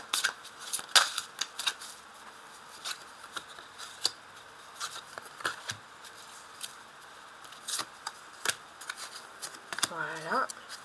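Tarot cards are shuffled and handled up close in repeated crisp riffles and flicks, with quiet background and a voice speaking briefly.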